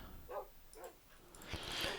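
A dog in the Minecraft video game gives a few short, faint yips and whimpers, spaced out over a quiet background.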